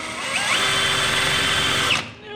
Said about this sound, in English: I'm gonna have to drill these stinking bolts out